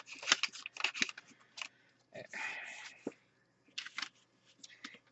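Scissors snipping paper for paper beads, close up in a series of crisp, uneven cuts with short pauses, along with rustling of the paper.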